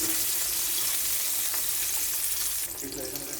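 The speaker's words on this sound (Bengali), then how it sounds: "এইভাবে আমি সবগুলো মাছ ভেজে নিব।" Fish fillets frying in oil give a steady, bright hiss and sizzle up close, continuing with a slight drop in intensity toward the end.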